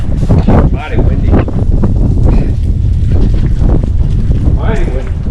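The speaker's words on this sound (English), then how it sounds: "Mighty windy." Strong wind buffets loudly and continuously, roaring and gusting close by, with voices mixed in under the blustery noise.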